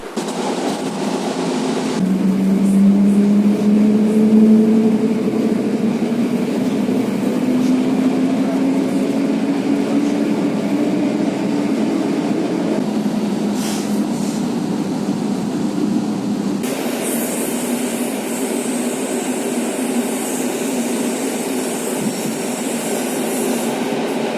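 A suburban express train in Gdansk rumbles past at close range with a steady, loud roar, wheels and carriages clattering; a rising whine runs through the first half.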